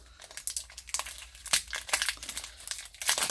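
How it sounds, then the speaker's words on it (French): A stiff hockey card pack wrapper is crinkled and torn open in repeated bursts of crackling plastic, close and fairly loud, with no talking. "Un paquet un peu difficile à ouvrir."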